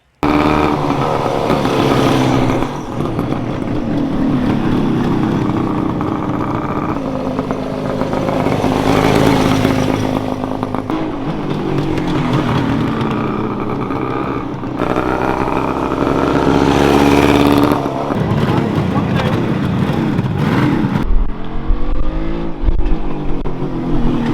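A restored classic motorcycle ridden hard around a Grand Prix circuit, its engine revving loud and close, rising and falling through gear changes for the whole stretch with no talk over it.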